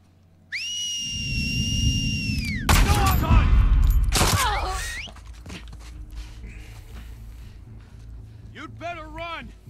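Gunfire in The Last of Us Part II on hard mode, loud booming shots and bursts after a long piercing whistle, followed by quieter background noise with a voice speaking near the end.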